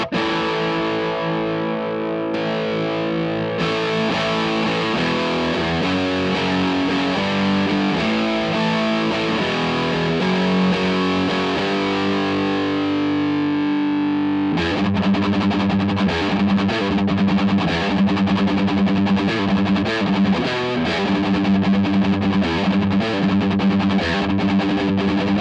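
Electric guitar played through a Marshall Silver Jubilee 2550 amplifier on its distorted lead channel, heavily overdriven sustained chords and notes, then a harder, choppier riffing section, loud and alone without talk.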